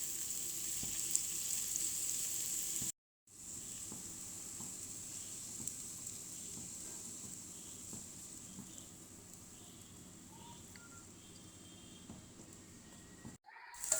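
Fried papaya with coriander leaves crackles softly in a pan, a faint continuous sizzle with light intermittent stirring taps, briefly cutting out twice, no voices over it.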